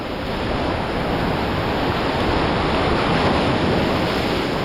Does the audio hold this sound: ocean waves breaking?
yes